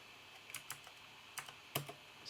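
Typing on a keyboard plugged directly into a dumpster-found MacBook Air, a handful of sparse, quiet key clicks at irregular intervals with no talking.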